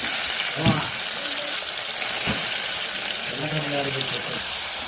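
Tomatoes cooking in a pan in a home kitchen, a steady hissing sizzle with a watery bubbling quality throughout, while a voice speaks in brief bursts over it.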